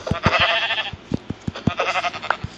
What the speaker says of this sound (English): Now I just need one more sheep.